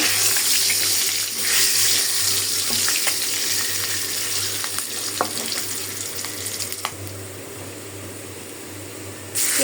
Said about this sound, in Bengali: আমি আবার ডিমগুলা বেজে নিচ্ছি